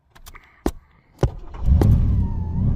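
A 1985 Pontiac Parisienne small-block engine cranks with a few sharp clicks and thumps, then catches and settles into a steady low rumbling idle, close and loud.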